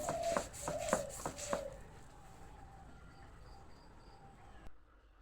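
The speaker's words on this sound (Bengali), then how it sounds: "এই দেখো আদাটা কীভাবে বাটছি" Ginger being ground on a grinding stone: a few sharp rhythmic scraping strokes up front, then a quieter lingering hum with faint background tones.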